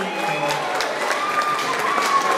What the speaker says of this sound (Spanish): ¿Dónde están los aplausos para